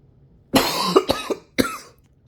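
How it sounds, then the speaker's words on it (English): A few harsh, close coughs in quick succession, loud and abrupt, with a short pause before a final cough and nothing else around them. "Seem to have a bit of a cough."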